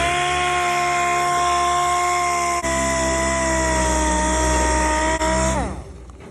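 Power tool sanding rust spots down to bare metal on a 1969 AMX body panel, a loud steady high-pitched whine held for several seconds before it spins down at the end.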